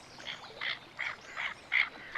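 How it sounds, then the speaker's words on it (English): Several tufted ducks call from the water at Walthamstow Wetlands in winter in short, evenly spaced quacks, faint and somewhat distant, with no other sounds around them. "I can see quite a large group of tufted ducks, male and females."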